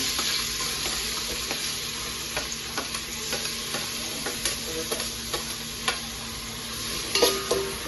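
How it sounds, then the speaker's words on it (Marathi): Onions fry steadily in hot oil for a Goan crab curry, a constant bright sizzle with soft scattered clicks of stirring that grow a little sharper near the end; no one speaks. "सो आता पयली कांदो फ्राय करया."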